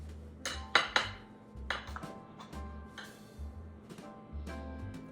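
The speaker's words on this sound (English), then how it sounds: "we're gonna give it a little stir" A utensil stirs holiday punch in a glass bowl, making a few bright clinks and pings against the glass with soft swirling between them, close and fairly quiet.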